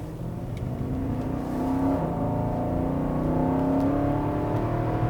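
A V8 engine in an SUV revs up close and loud, a rich low rumble rising in pitch around the middle, then holding at a strong steady growl with no talking.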